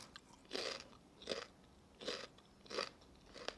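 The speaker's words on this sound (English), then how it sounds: "Sorry for crunching in your ears, but the flavor on this was really mild." Someone crunches on a raw French breakfast radish freshly harvested from a spring garden, four crisp bites about three-quarters of a second apart, close and clear, with no talking.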